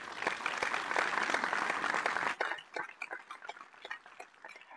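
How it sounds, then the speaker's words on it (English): Audience at a Toastmasters club meeting gives a round of applause, a dense burst of clapping that thins out into scattered claps after a couple of seconds. "Please give a huge round of applause to Toastmaster June."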